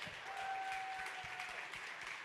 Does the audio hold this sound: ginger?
no